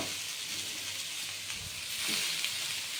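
Greens dropped into hot oil with fried lentil dumplings and brinjal crackle in a dense, continuous sizzle up close, swelling slightly toward the end, with no voice over it.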